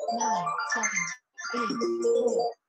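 A mobile phone ringtone plays a bright, melodic tone pattern in two loud phrases separated by a brief pause, with no talking over it.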